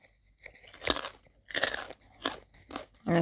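Close chewing of squid dipped in sauce, with several crunchy bites and wet mastication sounds coming in uneven bursts.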